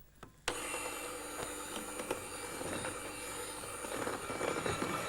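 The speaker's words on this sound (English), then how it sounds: "it needs to be whisked until you get ribbon trails falling" Egg yolks and caster sugar are whisked in a mixing bowl, a rapid steady whirring and rattling that starts abruptly after a brief quiet moment and continues at moderate volume.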